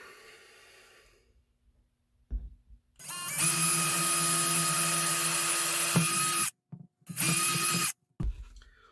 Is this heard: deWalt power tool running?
yes